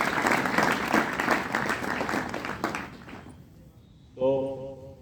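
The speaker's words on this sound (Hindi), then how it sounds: "ताली बजाएं।" Audience clapping fills a school hall for about three seconds, then fades out, leaving a brief quiet gap before a tonal chime-like sound starts near the end.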